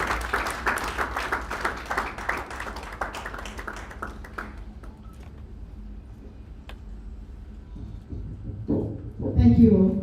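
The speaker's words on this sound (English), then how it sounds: "A round of applause, please," An audience at a corporate event applauds a director taking the stage, a burst of clapping that fades away, followed by a quiet room and then a voice starting to speak.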